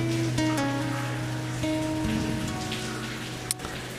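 Heavy rain falls as a steady, dense wash of noise beneath sustained tonal hums, with a sharp brief crack near the end and no speech.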